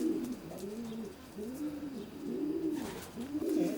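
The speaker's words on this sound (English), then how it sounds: "All pure Herman pigeons, yes." Pure Herman-line racing pigeons coo inside a loft: a series of soft, rolling coos repeating in a steady rhythm, close and clear with no talking.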